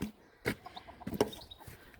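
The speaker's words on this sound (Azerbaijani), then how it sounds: "Mənim toyuqlarım da gəzməyə gedirlər." Chickens cluck softly nearby in a yard next to an apiary, in short, scattered bursts, with a few brief knocks and rustles in between.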